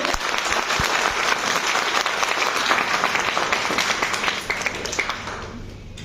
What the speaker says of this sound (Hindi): सभी लोग एक बार जोरदार तालियां